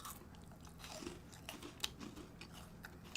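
Close, crisp crunching and biting on frozen, hardened food, irregular chews with sharp snaps, quiet and alone without talk.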